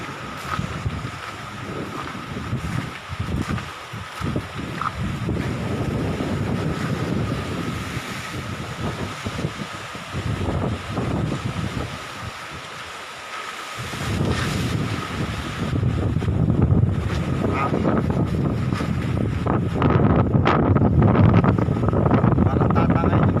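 Very strong wind roars across a boat near Brother Island, buffeting the microphone in a constant loud rush that swells into heavier, rumbling gusts toward the end.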